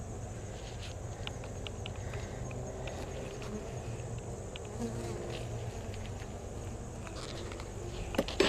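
Honey bees from a defensive colony buzz steadily throughout a hive inspection, a dense, continuous close-range hum with individual bees passing near, plus a few brief clicks and knocks near the end.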